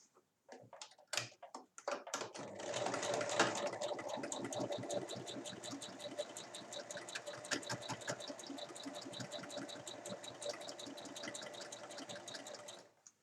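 A sewing machine stitching a seam on a tote bag with handles, a few short starting bursts and then a long, fast, steady run of close mechanical clatter, with no talking.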